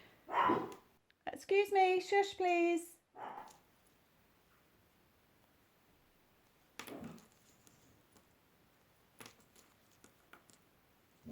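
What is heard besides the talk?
dogs barking in the hallway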